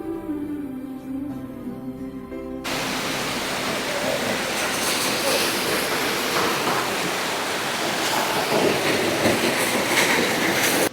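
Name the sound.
waterfall pouring in Rock Garden, Darjeeling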